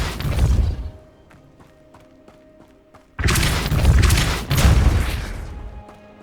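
A Depulso spell cast in the Hogwarts Legacy video game, heard as loud, forceful whooshing blasts with booming impacts, one burst at the start and two heavy bursts after a quieter stretch of faint ticking.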